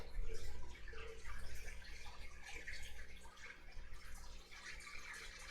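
Aquarium air pump and water pump running in fish tanks, giving a steady low hum with continuous soft bubbling and trickling water, moderately quiet and without talk.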